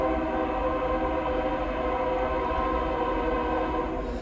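A train rumbles steadily past on a rail line near a wooden covered bridge at the Pittsford depot in Vermont, a continuous loud roar with layered tones that holds level for the whole stretch, no voices.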